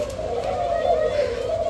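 Male ringneck dove cooing, a steady low continuous coo held close and clear over a faint background murmur.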